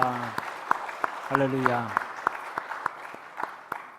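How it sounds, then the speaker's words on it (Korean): A church congregation at a Sunday service claps in rhythmic, evenly spaced beats, with a voice calling out over the start of the applause. "우리가 격려하고 축복하는 박수 한번 해드립시다."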